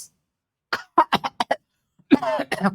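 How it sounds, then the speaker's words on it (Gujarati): A few sharp, short bursts come in quick succession after a moment of silence, then a longer, rougher cough-like burst, close and fairly loud. "એક ખાસ ખાંસી છે"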